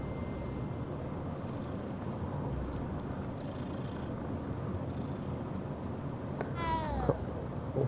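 Late in the stretch a cat meows once or twice in the Hogwarts Legacy video game. The meows rise out of a steady background of game ambience and noise.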